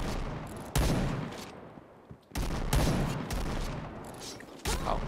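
Bursts of gunfire from the online shooter Point Blank, loud and close, arriving in several heavy volleys separated by short pauses, with only faint background voice.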